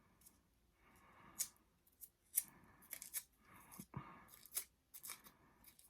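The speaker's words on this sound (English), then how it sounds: "using your thumb to pull it around your scissors" Crepe paper being curled around scissors for a handmade pine cone decoration, giving repeated sharp crinkling scrapes and rustles in an uneven rhythm, close and fairly quiet with no talking.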